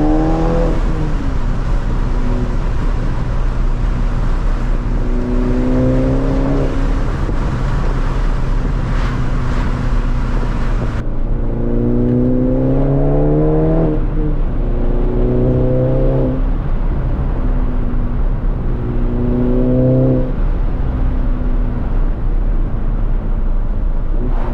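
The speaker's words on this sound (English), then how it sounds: "I'm about to drop a clip right now of my APR catted downpipe so we can get a sound comparison" Car exhaust with an APR catted downpipe, heard as a steady loud drone with repeated rising revs as the car accelerates through gears, recorded close with wind noise and no talk.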